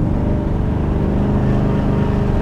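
An LT1-powered 1960 Chevy Bel Air restomod runs with a steady, loud, close exhaust rumble that holds even throughout.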